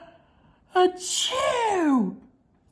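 A storyteller's voice imitates a bear giving an enormous sneeze: a sharp intake followed by a long, loud, drawn-out blast that slides downward in pitch and then stops, with nothing else around it.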